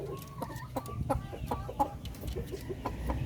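Several caged hens cluck in an irregular run of short calls. They are moderately close and steady, with faint farm background noise and no speech.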